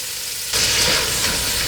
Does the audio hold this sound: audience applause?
no